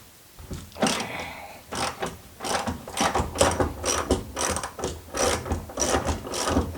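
A ratchet clicks in repeated quick bursts while breaking loose and backing out a coilover bolt on a Honda S2000 front suspension with KW V3 coilovers, close and loud with no talking.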